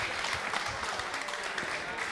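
An audience at a rap battle applauds and cheers for a rapper, a dense, steady wash of clapping and crowd noise with voices mixed in.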